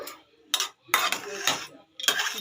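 A lid is set over a pan of vegetable curry finished with ghee, giving a few short metallic clinks and clatters in separate bursts, close and moderately loud, with no talking.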